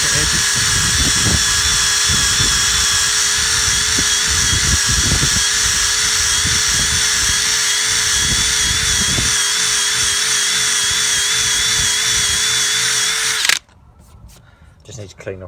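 Power-TEC 91488 rotary tool stripping vinyl decals off a vehicle, a loud continuous high-pitched whirring drone held steadily for about thirteen seconds with rubbing scrapes beneath, then stopping abruptly.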